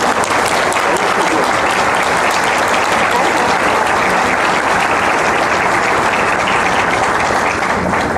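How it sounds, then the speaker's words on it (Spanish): Loud, dense applause from the audience at a book presentation in Xalapa, Veracruz, a steady wash of many hands clapping that holds without a break for the full eight seconds. "Pido un fuerte aplauso para ella"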